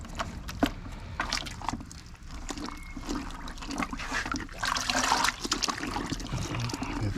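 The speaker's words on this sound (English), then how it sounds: "I have a bucket of hot water. I'm gonna shove it in there." A car air filter, a K&N-style filter from a 2014 Mazda 3, being pushed into a bucket of hot water: close sloshing, trickling and splashing with a few sharp knocks, fairly quiet throughout.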